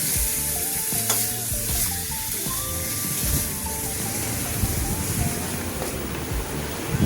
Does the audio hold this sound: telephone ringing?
no